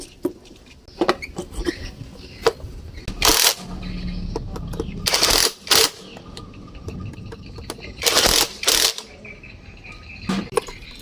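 Several sharp plastic clicks and snaps of an electrical connector clicking onto a Honda Beat ESP scooter's fuel injector, at irregular intervals, close by, with light handling noise between them and no talking.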